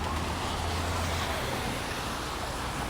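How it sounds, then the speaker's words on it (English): Cars roll past on a Chicago street during a snowstorm, a faint, steady wash of tire and road noise with a low rumble, heard from a distance and without voices. "And a couple shots of the cars rolling by."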